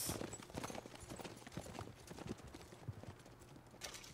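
Horse hooves clip-clop at a steady trot through Red Dead Redemption 2's muddy game world, a continuous close rhythm of hoof strikes heard alone with no talk.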